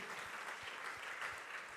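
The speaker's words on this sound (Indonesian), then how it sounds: "Beri tepuk tangan yang meriah bagi Tuhan" A church congregation claps together in a soft, dense wash of applause, fairly distant and quiet, steady for a couple of seconds.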